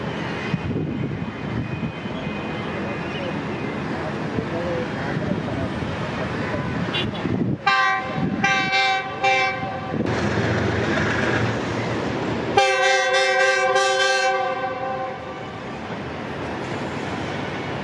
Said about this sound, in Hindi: 33 पार्क बिजनेस एक्सप्रेस भी अपेयर हो चुकी है।